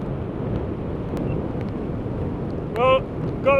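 Strong coastal wind buffets the microphone as a continuous broadband rush while sea fishing for cod in a storm, with a voice briefly speaking near the end.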